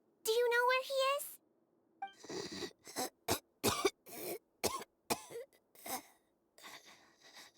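Harsh, raspy coughing from one person comes in a rapid series of about ten close, loud bursts, after a brief strained, moaning vocal sound at the start.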